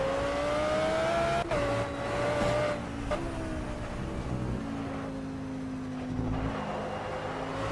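Car engine driving in the video game S.T.A.L.K.E.R. 2: Heart of Chornobyl, a steady droning motor whose pitch rises then falls and settles lower as the vehicle shifts and slows, with no talking.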